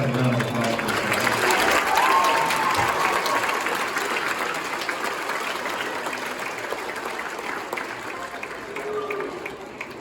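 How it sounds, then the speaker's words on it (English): Audience applause after a school band trumpet recital, a dense wash of clapping that starts loud and tapers slightly over ten seconds, with some crowd murmur mixed in. "let's have a round of applause for this guy."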